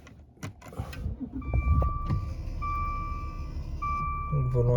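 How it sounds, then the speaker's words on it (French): The electric steering wheel of a Maserati Levante 3.0 V6 adjusts with a smooth motor whine in several short runs, starting after a few clicks and soft handling noises inside the cabin. "Donc volant électrique également"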